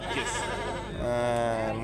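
A sheep bleats loudly and close by at a livestock bazaar in Khorezm, one long wavering call with a second rising cry, over faint market background noise.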